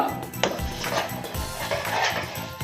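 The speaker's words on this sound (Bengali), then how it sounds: "এবার আমি চিনিটাকে এইভাবেই নেড়ে নেড়ে আমি চিনিটাকে গলিয়ে নেব।" A spoon scrapes and clinks against a pan as sugar is stirred over a gas flame to melt it for caramel, with steady close-up scraping sounds throughout.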